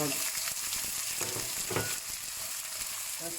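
Shallots and pork shoulder caramelizing in a pan over lowered heat give a dense, continuous close sizzle with a few brief bursts of louder crackle and no speech.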